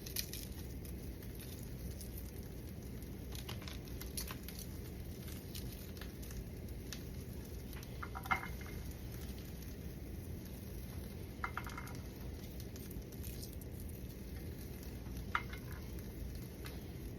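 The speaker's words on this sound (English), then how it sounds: "jalapeno, onions, and garlic for our guacamole because we're making guacamole. Roast them a little bit." Jalapeno, onions and garlic roasting in a pan for guacamole: a faint, steady sizzle with occasional light clicks and taps of utensils against the pan.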